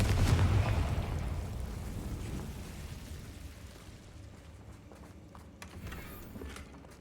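A Confringo fire spell blast in the video game Hogwarts Legacy, a loud booming burst at the start that rumbles and decays over several seconds, with faint crackles and thuds trailing after.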